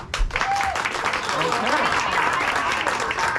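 Saturday night improv show crowd gives a loud, dense round of applause, continuous clapping mixed with scattered voices that carries through to the end.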